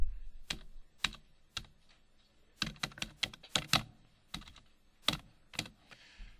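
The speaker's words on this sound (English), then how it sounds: "So we're going to type in project name" Computer keyboard typing, quiet and close, in short bursts of separate keystrokes with brief pauses between them, heard alone without talk.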